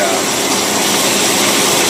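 Boat engine with a Rochester two-barrel carburetor running slightly lean, a loud, steady, unbroken roar heard close by with no change in pitch.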